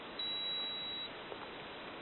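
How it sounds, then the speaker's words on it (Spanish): A Kalenji 300 sports watch gives one continuous high-pitched beep, about a second long, as its stopwatch starts, clear and close against faint background hiss. "Para iniciarlo, botón A, y se escucha un pitido continuado."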